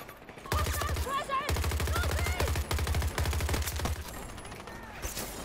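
Rapid automatic gunfire in a shooter video game, loud and close, sounding in long rattling bursts broken by brief pauses, with tonal game sounds and effects mixed in over the shots.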